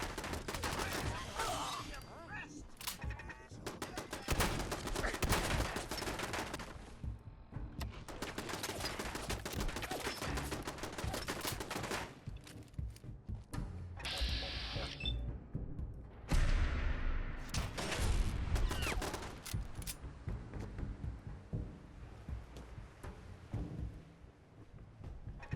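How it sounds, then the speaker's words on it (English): Gunfire in Fallout 4, dense bursts of shots and fusillades crackling through a long combat stretch, loud and near with heavy thuds mixed in, while a voice speaks faintly at times. "Shooting me from under the freaking..."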